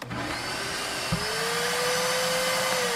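A DeWalt wet/dry vacuum cleaner sucking up water makes a steady loud motor whine, with a brief thud about a second in as the pitch shifts slightly upward.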